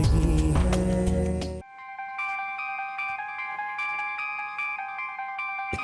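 A late-night phone call brings a loud, melodic electronic ringtone that repeats steadily on its own after a short burst of louder music, with no voices.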